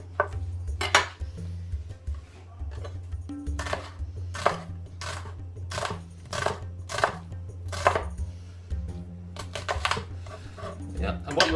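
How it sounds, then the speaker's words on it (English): A knife chops through a halved onion on a board, cutting thin slices for onion bhaji in a steady run of sharp, close taps. A voice talks over the cutting throughout. "the best way to do it is to half it and then cut it nice and thin slices"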